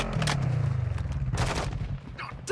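Gunfire crackles in a video game session while a vehicle engine hums steadily underneath. The bursts sound fairly near and stand alone, with no speech.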